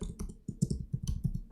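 Rapid keyboard typing on a computer while coding in JavaScript, a close, uneven run of light clicks and taps with no talk.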